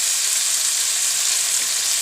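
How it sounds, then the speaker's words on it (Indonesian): Blended chili and tomato fry in a pan, a loud, dense, steady sizzle close up with no talking. "Kemudian masukkan cabai dan tomato yang sudah di blend."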